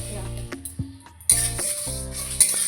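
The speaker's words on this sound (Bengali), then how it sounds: "মশলা আমি ভাজছি, গুঁড়ো করে তারপরে আমি আটা করব" Whole spices such as peppercorns, coriander, fenugreek, cumin, fennel, bay leaves and dried chillies are dry-roasted in a pan, with a spatula scraping and knocking through them in quick, close bursts and a faint sizzle.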